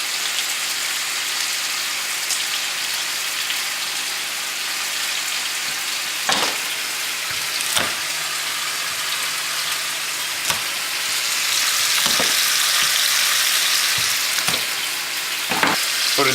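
Garlic sizzles steadily in oil in a pan over medium heat, a dense frying hiss lasting throughout, with occasional sharp clicks and utensil taps near the mic and a slightly louder crackle toward the end.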